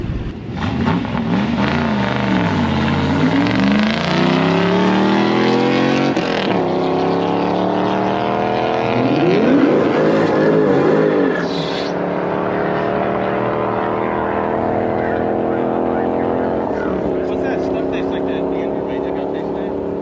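A cheap car accelerates hard during a Texas Mile top-speed run, heard from inside the cabin with its engine note climbing through several gear changes under steady road and wind roar.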